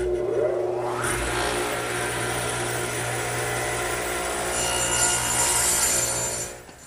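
A radial arm saw, arm swung 12.5 degrees, cuts through a wooden 2x4 armrest held against the fence for a garden bench: a motor spin-up, then a loud, steady whirring cut for several seconds before winding down.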